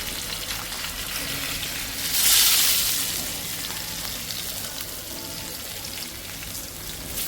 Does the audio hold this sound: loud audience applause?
no